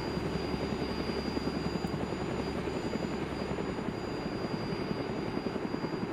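A helicopter in the video game DayZ flies overhead with a loud, continuous rotor thump and engine roar, steady and close throughout.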